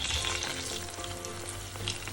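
Longganisa sausage sizzles hard in a hot frying pan as it is flipped, a dense, continuous close-up crackle and hiss with no voices.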